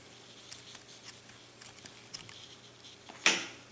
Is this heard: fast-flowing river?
no